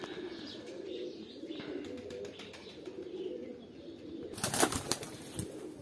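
Homing pigeons released outdoors, with soft cooing and chirping throughout and a brief louder flurry of wing flaps near the end. The sound is faint and low in the mix.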